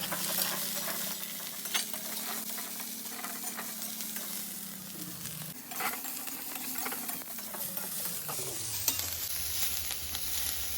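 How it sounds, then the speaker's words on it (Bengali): Potatoes, chopped onion and diced eggplant fry together in a pan for a Bengali village-style dish, giving a steady close sizzle with intermittent stirring scrapes and no talk. "আলু পেঁয়াজ আমি একসঙ্গে ভেজে নিচ্ছি।"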